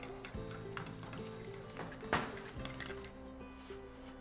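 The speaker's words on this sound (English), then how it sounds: "Okay, let's put that in. Let's give it a mix." Split pea and ham soup being stirred after dried parsley and green onions go in, a soft continuous scraping and stirring with faint clinks of utensil on pot and one brief louder knock midway.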